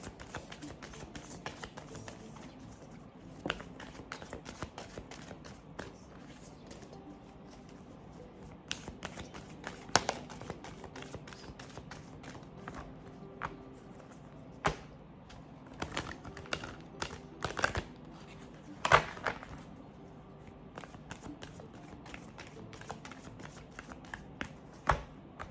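Tarot cards being shuffled and cut by hand, a steady run of soft riffling flicks and taps with brief louder snaps, close and fairly quiet, with no talking over it.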